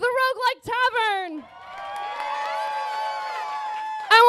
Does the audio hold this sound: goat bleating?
no